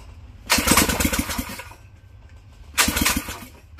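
A Predator 212 engine fitted to a John Deere 110 lawn tractor cranks in two loud bursts of rhythmic starter chugging, each lasting over a second, with a short quiet gap between and no voices.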